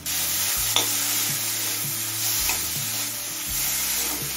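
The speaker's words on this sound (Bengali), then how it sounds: "এবারে সবকিছু ভালোভাবে কষিয়ে নেব।" Spices for a prawn and cucumber curry sizzle steadily in a pan while a spoon stirs them in rhythmic scraping passes, close and continuous with no talk.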